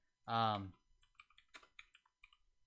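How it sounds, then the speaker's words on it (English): Light, quick clicks of typing on a computer keyboard follow a brief spoken phrase, scattered and soft in a quiet room. "Just a second, I'm typing something here."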